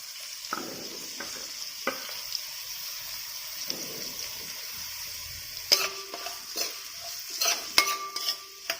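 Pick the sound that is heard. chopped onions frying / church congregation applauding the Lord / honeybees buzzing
chopped onions frying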